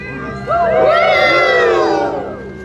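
An audience, largely children, cheers and whoops loudly for a boy named Brendan as he takes a bow, the shouting swelling suddenly and holding steady for about two seconds.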